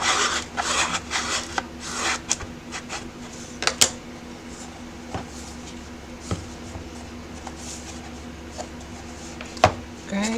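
Burnishing work on a suitcase: soft, continuous rubbing and rasping strokes, fairly quiet, with a few sharp clicks and taps scattered through and a steady low hum underneath.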